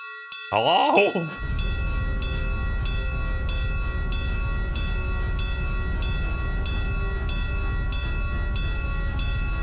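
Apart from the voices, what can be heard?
alarm bell ringing in Tales of Vesperia video game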